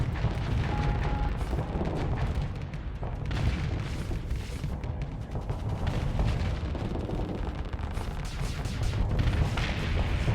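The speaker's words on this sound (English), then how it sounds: "go ahead and start firing off those harpoons" Harpoon launchers firing and exploding in a naval combat video game, a steady dense rumble of booms and blasts rolling on continuously with no clear breaks, loud and near throughout.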